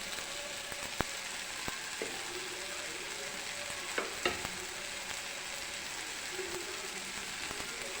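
Onions fry and sizzle in a pan with turmeric and coriander powder added, a soft continuous crackle broken by several sharp clicks of a spoon stirring against the pan.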